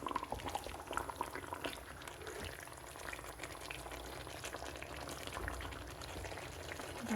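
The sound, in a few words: beef simmering in a pot on the stove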